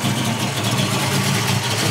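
A 1979 Ford Falcon XD with alloy heads, a Quick Fuel carburettor, an RPM manifold and MSD ignition idles while warming up, giving a steady, loud, close rumble with no talk.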